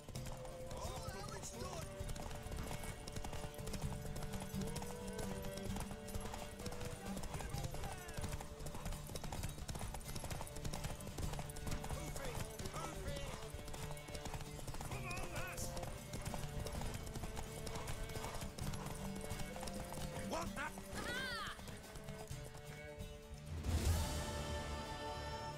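Horse hooves clip-clopping in a steady galloping rhythm in The Witcher 3: Wild Hunt game, continuous under game music and ambience, with a short louder burst near the end.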